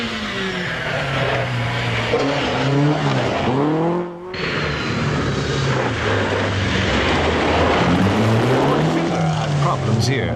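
Rally cars, including a Ford Escort, race along a forest stage at Cannon Wood near Clonmel during the 1970 Circuit of Ireland Rally, engines rising and falling as they pass, with a narrator speaking over the sound throughout.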